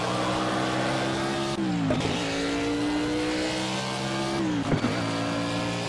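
Race car in the Project Cars video game building revs, with engine harmonics rising steadily and two brief drops where gears shift, a loud continuous engine tone heard from close by.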